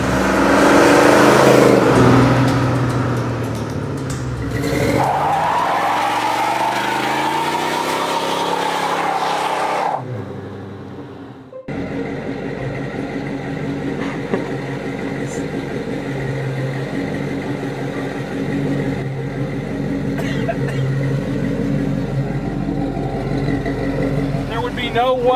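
A 1967 car with a C4 automatic transmission and a 300 rear gear is driven hard. The engine roars and revs loudly, then cuts off abruptly and is followed by a quieter cabin rumble with talking.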